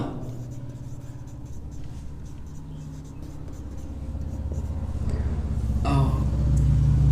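Chalk or marker scratches across a classroom board in short strokes under a steady low rumble, with a brief squeak of writing near the end.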